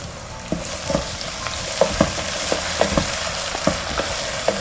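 Cashews fried in ghee stirred into ghee rice in a pan, a soft steady sizzle with repeated light scraping and tapping of a spoon about every half second, close up.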